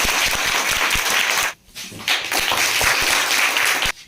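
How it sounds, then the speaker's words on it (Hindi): A quiz show audience gives loud, close applause with dense clapping that stops abruptly halfway through, then picks up again and continues to the end. "इसके जोरदार ताली बजा दीजिए"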